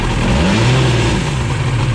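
A Sea-Doo jet ski engine under restoration, running with a leaking exhaust gasket, revs up and down in a steady, loud mechanical drone. Water bubbles from the exhaust, and no one talks.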